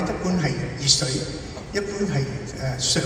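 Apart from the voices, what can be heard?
None of the usual background noises is heard.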